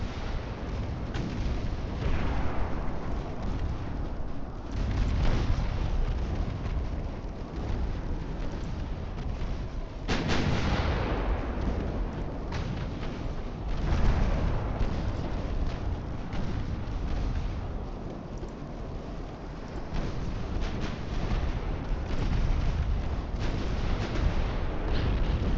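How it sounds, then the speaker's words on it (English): Heavy warship main guns thunder through a naval battle in an Ultimate Admiral Dreadnoughts Spanish-American War campaign, with continuous booming salvos and rumbling blasts layered into a dense, sustained roar and no talk. "Aggressive use of main guns."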